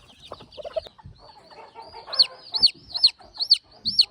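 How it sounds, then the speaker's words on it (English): Free-range gamefowl chickens and chicks cluck and peep nearby, with a run of sharp, high repeated calls in the second half over soft scuffling, and no voices. "Now I'm gonna let go my brood fowl chicks"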